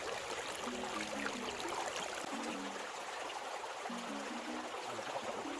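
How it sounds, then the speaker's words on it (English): A gold pan of gravel is swirled through water while sapphires and gold are panned, producing continuous close sloshing and trickling with soft gritty wash throughout. "Alright, one-handed panning."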